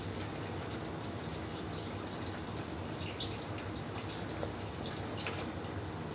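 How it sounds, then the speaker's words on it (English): Filtered water running from a kitchen tap, a continuous, fairly close splashing stream with a steady level and no speech. "I'm going to get some healthy water up in here."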